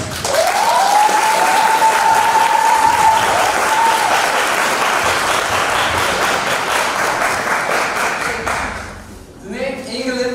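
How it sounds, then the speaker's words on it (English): Sustained audience applause at a school English Day event, a loud, dense roar of many hands with a faint tone and some voices woven through, tapering off near the end before a speaker resumes. "Can I have an applause for that?"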